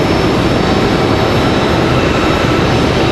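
JetBlue 404 airliner arriving from San Juan, Puerto Rico, at Raleigh Durham International Airport: a loud, unbroken jet engine roar filling the whole moment, with no voices.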